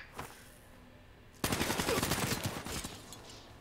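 Rapid automatic gunfire in a shooter video game erupts suddenly after a quiet moment, a loud, dense burst of fast shots that holds for about two seconds before tapering off.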